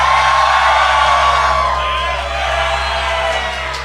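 A live crowd at a tabletop game show cheers and whoops loudly at once, a dense burst of voices that fades slightly toward the end.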